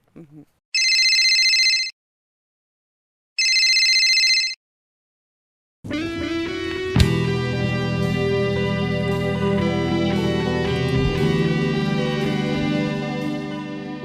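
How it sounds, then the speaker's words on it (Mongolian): Two loud bursts of a telephone ringtone for an incoming call sound alone, separated by silence, before music takes over. "За өөрөөр хэлбэл танд хандсан дуудлага иржээ."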